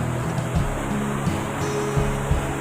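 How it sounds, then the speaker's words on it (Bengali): Water rushing in and pouring down at a risky outdoor spot, a steady broadband roar with surf-like surges, loud and continuous throughout with no voices. "কিভাবে জল আসছে আর জল পড়ছে।"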